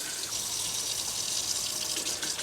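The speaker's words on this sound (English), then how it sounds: "Just run some water through there." Water runs steadily from an RV tap, a continuous close hiss and splash with no break for the whole stretch and no one speaking.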